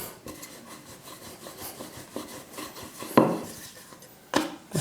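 A rolling pin rubs and rolls across icing sugar while someone works sugar icing for Halloween cake decorations, giving soft scraping strokes with a few sharper knocks and bumps.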